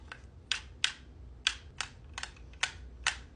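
Computer keyboard and mouse clicking at a PC setup, with about ten sharp, separate taps and clicks spaced irregularly, fairly close and crisp against a quiet background.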